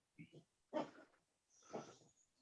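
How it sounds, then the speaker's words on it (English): A dog barks a few times somewhere in a home, short yelping bursts heard close but quiet with gaps between them. "Who's dog barking?"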